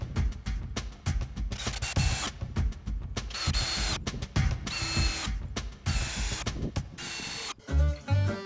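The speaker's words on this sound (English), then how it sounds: "I always use wood glue when screwing 2 pieces of wood together." Power drill driving screws to join two pieces of wood for a DIY polytunnel greenhouse built from reclaimed materials, with repeated whirring bursts and ratcheting clicks at close range, no talk.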